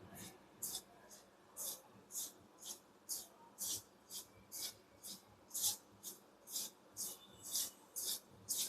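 A hand mixes wheat flour, gram flour and semolina in a bowl, giving a quiet, rhythmic run of soft rubbing, scraping strokes at about two per second, close and faint.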